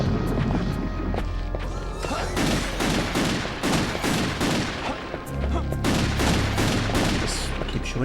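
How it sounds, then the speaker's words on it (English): Rapid gunfire from silver bullets in the video game Castlevania Legacy of Darkness, a quick volley of sharp shots with crashing impacts, loud and dense over a low game background. "Just keep shooting them with silver bullets"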